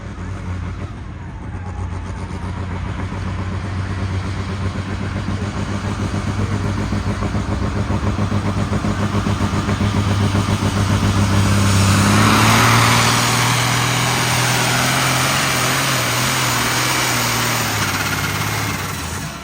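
A Light Limited Super Stock tractor at a tractor pull, its engine droning steadily and loud for a long stretch, swelling toward a peak midway, then holding a high strained roar.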